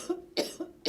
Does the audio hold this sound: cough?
yes